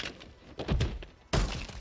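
Ballerina's finishing move on a prone opponent in Call of Duty: two heavy thunking impacts, the second an abrupt loud crunch with a short crackling tail, no voices.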